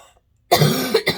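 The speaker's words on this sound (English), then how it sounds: "It's just a cough and a bunch of tickles down my nostrils." A close, harsh cough bursts out, followed quickly by two shorter, rougher coughs, with no talking.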